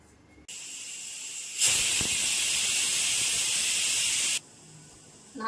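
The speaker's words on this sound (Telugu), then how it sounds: "4-5 విజిల్స్ వచ్చేంత వరకు మటన్ మీడియం ఫ్లేమ్లో పెట్టుకొని ఉడకనిద్దాం." Pressure cooker whistle while mutton curry cooks on medium flame: a loud, steady steam hiss that kicks in, surges louder for a few seconds, then drops back to a quieter hiss.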